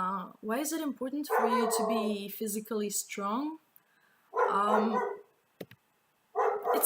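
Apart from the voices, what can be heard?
dog barking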